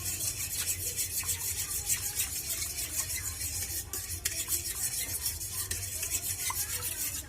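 Continuous scraping and stirring of a coconut milk mixture in a pot for green bubur sumsum, a close, steady rubbing texture with faint clinks and no talk.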